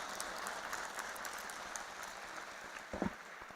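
An audience at a university school of media and communication event applauds to welcome a professor to the stage, a steady, fairly soft wash of many hands clapping from a distance, with a few louder nearby thumps near the end.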